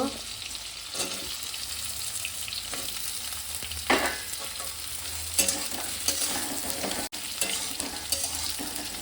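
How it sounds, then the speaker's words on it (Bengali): Pumpkin pieces stirred in a frying pan for an old-style kolmi greens and prawn dish, giving a steady sizzle with loud scraping bursts from the spatula at intervals; no speech. "কুমড়োটা দিয়ে একটু নেড়ে নেবো"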